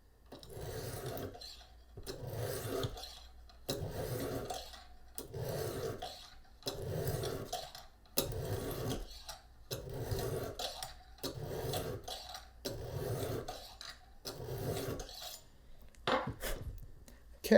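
A knife edge drawn across a Lansky Deluxe sharpener stone at a 20-degree angle: about nine even, rasping strokes in a regular rhythm, each a short scrape followed by a brief pause, close and fairly quiet.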